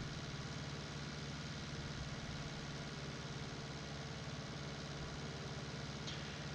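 A small chore tractor's engine runs steadily in Farming Simulator 19 on a Michigan farm, a constant low idling drone with even vibration and no break, heard alone.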